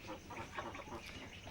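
Ducks kept in a rearing enclosure quack and chatter in a dense, overlapping cluster, faint and somewhat distant, with no speech over them.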